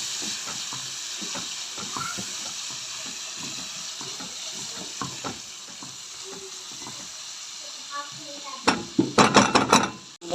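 Chopped onion with a piece of pepper sizzles in hot fat in a pot for stuffed pigeon rice, with steady frying and scattered stirring scrapes, then a louder run of clatters near the end.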